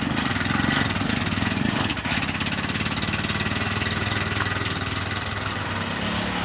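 A vehicle engine runs steadily and revs as the clutch is let out for a steep launch, a continuous mid-pitched drone at fairly loud level with a brief dip partway through.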